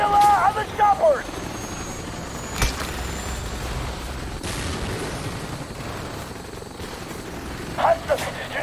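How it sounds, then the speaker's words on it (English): Helicopters in Call of Duty Black Ops, a constant heavy rotor rumble filling the battle scene, broken by sharp bangs and short whistling bursts of combat. "Hudson, you need to take down those helicopters!"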